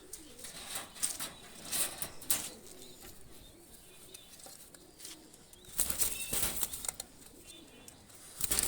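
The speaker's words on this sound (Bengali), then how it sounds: "ছেড়ে দেখাচ্ছি কবুতরটা" A Pakistani high-flyer pigeon is let go and beats its wings in two quick, close bursts of flapping separated by a quieter stretch, with faint background noise and no talk.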